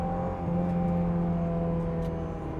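A Honda S2000 engine drones steadily and close while the car is driven through a corner, with a low, even hum and no clear rise or fall in revs.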